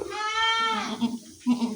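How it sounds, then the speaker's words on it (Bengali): A goat with its young kid; a short, wavering bleat opens the clip, followed by two brief lower calls, heard close and fairly clear. "আর এই যে এই ছাগল আর এই বাচ্চা"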